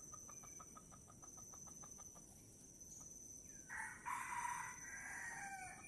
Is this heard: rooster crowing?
yes